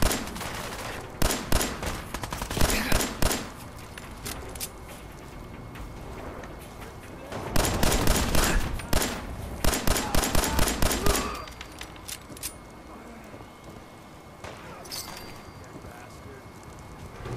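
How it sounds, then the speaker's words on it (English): Gunfire in Fallout 4, a loud burst of rapid shots followed by a pause, then a second dense volley of repeated shots and a few scattered single shots trailing off, with talk in the background. "The people shooting at us, maybe?"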